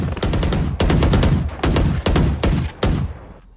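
Rapid gunfire in the tactical shooter Valorant, loud close bursts of automatic shots in several quick volleys separated by short gaps, trailing off at the end.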